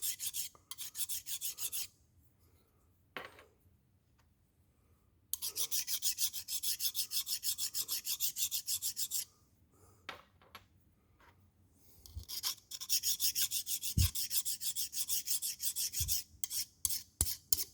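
Hand file rasping burrs from the edges of rod bearings for a 565 blower engine with aluminum rods, in long bursts of steady back-and-forth strokes with short pauses, close and fairly loud, with no talking.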